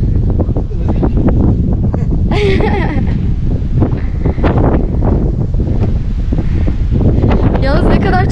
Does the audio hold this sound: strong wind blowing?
yes